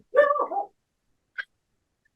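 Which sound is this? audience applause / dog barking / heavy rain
dog barking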